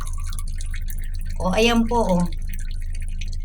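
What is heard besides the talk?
weak dripping of tap water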